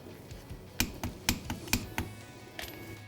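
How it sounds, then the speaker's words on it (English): A torque wrench clicks while tightening the transmission drain plug on a Yamaha Banshee ATV, giving a run of about eight sharp, close clicks at irregular intervals. "Now let's install the drain plug and torque it to 14 foot-pounds."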